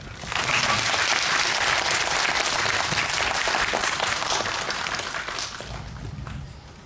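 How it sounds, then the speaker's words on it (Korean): Audience at a film festival talk session in a cinema breaks into sustained applause, a dense wash of many hands clapping that starts abruptly, holds steady for several seconds and then tapers off. "박수 부탁드립니다"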